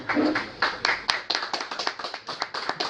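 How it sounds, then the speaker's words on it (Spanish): A small fellowship gathering claps to welcome a speaker: distinct, fairly sparse individual hand claps in an irregular rhythm, moderately close and not very loud, with a brief murmur of voices at the start. "Recibámoslo con un fuerte aplauso, por favor."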